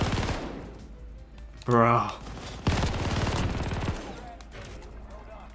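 Light machine gun fire in the video game Warzone, a heavy burst with strong recoil punching in mid-clip, with a player's voice talking over it before and after.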